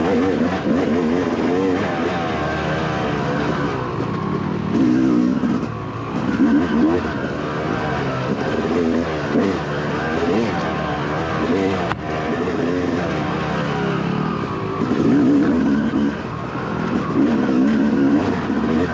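Off-road racing motorcycle in a cross-country (CXC) race, its engine droning and revving continuously and loudly close by, with a rider talking over the engine noise throughout.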